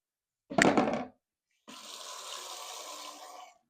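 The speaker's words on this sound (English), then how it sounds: "I'm going to rinse this out because my batter is going to go in here." Water from a kitchen tap splashing into a bowl as it is rinsed, a short loud burst, a brief pause, then a longer steady stream running close by.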